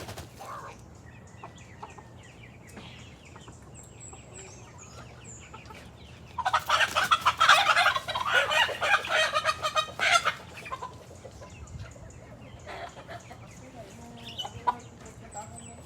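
Black chickens clucking close by, a dense burst of bright, busy clucks and squawks lasting a few seconds midway, with quieter background before and after.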